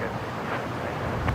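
Strong gusting wind of up to 38 knots at Brisbane Airport roars as a broad, steady rumble with buffeting microphone noise, fairly loud throughout the short stretch and swelling slightly near the end.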